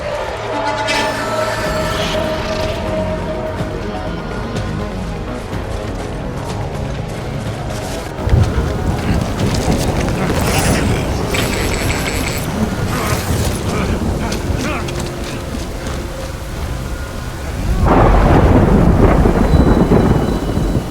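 Thunder rolls and rain pours continuously in the video game Death Stranding, a loud dense storm with heavy rumbling bursts and a final surge of deep thunder.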